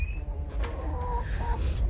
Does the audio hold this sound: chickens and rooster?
yes